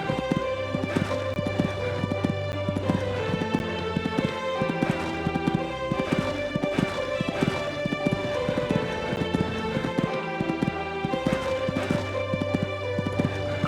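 Horse hooves cantering in the Equestriad 2001 video game, a steady, fast rhythmic clip-clop repeating evenly throughout over a low background tone, with no voices.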